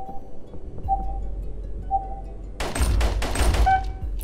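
Gunfire on a shooting range in the isometric tactical shooter Operation Valor: after a quiet stretch with soft beeps, a quick burst of several sharp shots cracks out near the end, fairly close and without talk.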